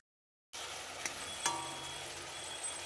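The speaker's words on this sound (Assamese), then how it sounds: "অলপমান হেতাৰে লৰাই লোৱা হৈছে" A steady low sizzle of spinach dock and fish curry cooking in a pan, with a couple of faint spatula scrapes as it is stirred.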